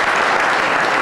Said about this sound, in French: Est-ce qu'on peut applaudir hein,